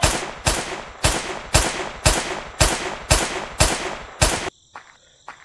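Weapon fire in the Mono Sandbox video game. About nine loud, sharp shots come at a steady half-second pace, each with a ringing tail, then the firing stops and only faint sounds are left.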